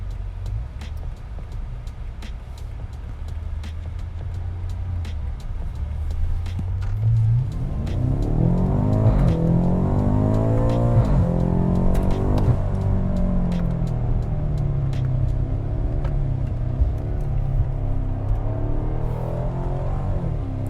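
A 2018 BMW M5 Performance idles with a low rumble, then accelerates hard after a U-turn, the engine note climbing loudly through rising revs and gear changes from inside the car, no talking.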